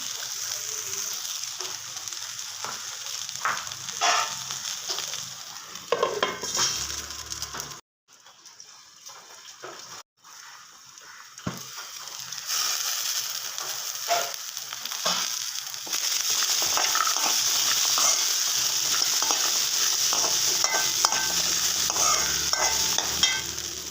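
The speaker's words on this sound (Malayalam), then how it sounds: "നല്ലതുപോലെ ഒന്ന് മിക്സ് ചെയ്ത് കൊടുക്കാം." A homemade curry fries in a pan while it is stirred. A loud, steady sizzle carries scraping strokes and briefly drops out partway through before returning even stronger.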